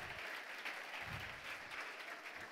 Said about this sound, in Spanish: Démosle un aplauso a Emanuel y a Daniel.